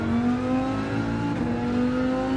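Car engine in Gran Turismo 7 drones steadily at high revs, a continuous loud whirring tone with slight pitch wavering, heard alone without talk.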